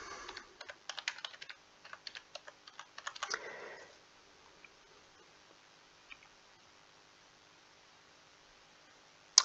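Rapid, close keystrokes clatter on a computer keyboard for a few seconds, then give way to near silence broken by a couple of faint isolated clicks.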